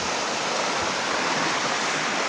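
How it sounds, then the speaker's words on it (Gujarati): Floodwater after heavy rain rushes past at full speed in a loud, unbroken roar close at hand. "મિત્રો કેટલી સ્પીડમાં પણ આવી રહ્યું છે પાણી, ધીમું નહીં આવતું, ફૂલ સ્પીડમાં આવી રહ્યું છે।"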